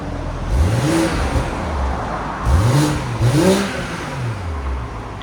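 A BMW M340i 3.0L cold start with Valvetronic exhaust valves closed gives several quick rising and falling revs, close and moderately loud, in an outdoor setting with no speech.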